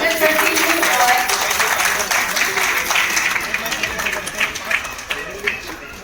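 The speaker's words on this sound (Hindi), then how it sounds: "मैं जोरदार तालियों के बीच उनका स्वागत करती हूँ" Enthusiastic applause from a large audience greets a guest invited onto the stage at a folk cultural event, dense clapping that stays loud for several seconds before gradually thinning out.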